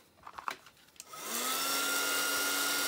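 Heat dryer blowing a steady, loud whooshing whine across coffee-dyed paper, starting after about a second of faint handling noises and then running continuously.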